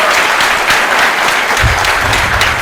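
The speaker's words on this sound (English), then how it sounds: "we give him a round of applause for being reasonable and polite" A rally audience at the San Jose Convention Center in California claps steadily, dense and loud applause filling the whole stretch without speech.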